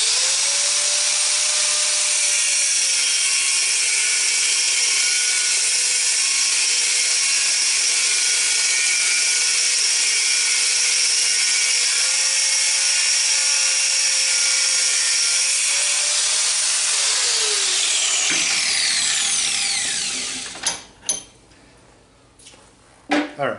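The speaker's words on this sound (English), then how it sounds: "I'm going to take my grinder." A handheld angle grinder without a guard cuts through a pair of metal pliers, a loud steady whine running for about twenty seconds with pitch dips as the disc bites, then cutting off into brief clatters.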